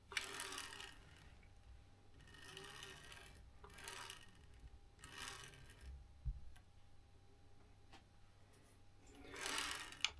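On a Bambu Lab A1 Mini 3D printer, the print head is slid back and forth by hand in several soft, evenly spaced sliding passes with faint ticks between them.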